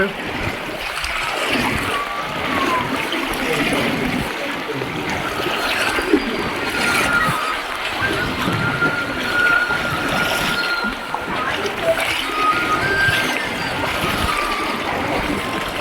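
Flood water rushes past a breached embankment in Vijayawada, India, as a constant broad roar of flowing water, with voices talking over it.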